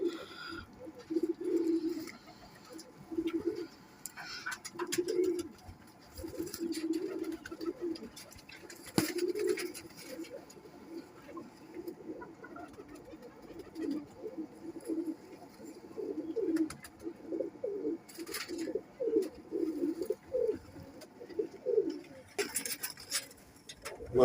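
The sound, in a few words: Kamagar golden pigeons cooing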